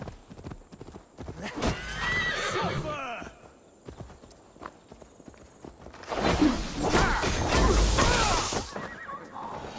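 In Assassin's Creed Valhalla, a horse's hooves clip-clop steadily and it lets out loud neighs and whinnies, with a whooshing, crashing burst in the latter half and a voice speaking briefly.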